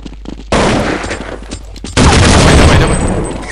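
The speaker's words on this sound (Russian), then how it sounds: "О, сам себя взорвал уже, все. Заиграли что-то, ребята. Взорвал гранатой." Loud bursts from a PvP shooter video game: a grenade blast erupts with a sudden heavy crack, then a second, bigger explosion follows a moment later and rumbles on into a long, dense roar.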